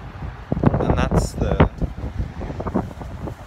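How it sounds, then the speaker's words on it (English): Gusty wind buffets the microphone in rough, low rumbling bursts, with a voice faintly mixed into the noise. "Oh, and it's windy."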